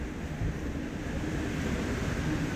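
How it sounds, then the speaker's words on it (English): Hurricane Ian's winds roar steadily around a small shed in Port Charlotte, Florida, a dense, loud, unbroken rumble of gusts and buffeting with no speech over it. "This whole building's rattling."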